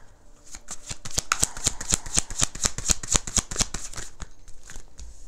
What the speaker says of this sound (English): Let me get all the cards out.